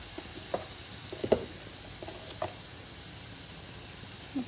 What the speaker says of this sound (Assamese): তেলতে হালধি দি দিলোঁ।